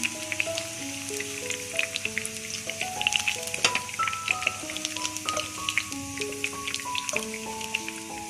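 Chicken kababs frying in a pan give off a steady sizzle dotted with crackles and pops, with music playing throughout.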